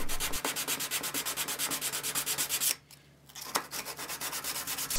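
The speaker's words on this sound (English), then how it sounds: "I rip some sandpaper down the side of a lollipop stick, fold it over, and then just sand with more sanding" Sandpaper folded over a lollipop stick rubs back and forth on a small wooden pug figure, a quick, even, close scratching rhythm that stops briefly midway before resuming.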